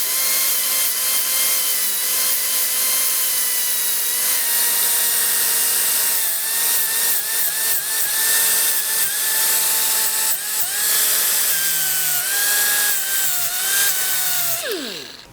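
A power grinder whines steadily, grinding burrs off the links of a chainsaw chain that came off its bar. The tone is loud and continuous, with the pitch wavering as it bears on the metal, and no voices are heard.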